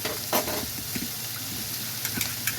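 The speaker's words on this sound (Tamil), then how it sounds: "இப்போ வெங்காயம் வதங்கட்டும்" Onions sautéing in a pan for a village-style curry, giving a low steady sizzle with occasional scraping stirs, fairly quiet and close, with no voices.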